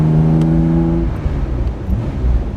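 A 1962 Jaguar E-Type 3.8 Series 1 roadster with a straight-six engine and triple SU carburetors gives a loud, close exhaust note, a steady droning tone for about a second that then breaks into rougher, rumbling engine noise.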